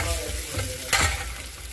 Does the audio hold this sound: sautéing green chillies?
yes